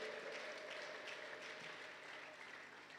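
Worshippers at a church service clap in praise, a faint, steady patter of applause that carries on throughout, with no clear ululation standing out.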